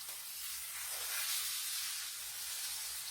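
Liver sizzles in a frying pan, a steady, close hissing spatter that swells a little midway and continues without pause.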